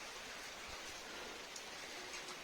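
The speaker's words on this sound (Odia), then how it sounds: "ବର୍ଷା ଛାଡବାର ଚାନ୍ସ ଏକା ନାହିଁ" Steady rain falling outside a house in rainy-season weather, a dense even hiss of drops on surfaces, moderately loud and continuous with no speech.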